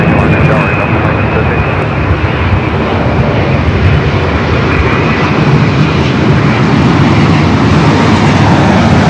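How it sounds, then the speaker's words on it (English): A Boeing 787-10 Dreamliner airliner arriving at LAX, heard as a loud, continuous engine roar that stays strong throughout, with a voice speaking over it. "787-10 and Dreamliner, number 2 for arrival here on the north side."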